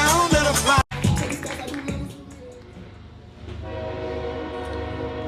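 A train horn blares in a sustained chord near the end, following a burst of mixed, noisy music and clatter at the start, loud and fairly close.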